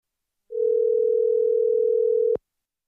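A single steady telephone tone on an international call holds for about two seconds, clean and unbroken, then stops abruptly with a faint click.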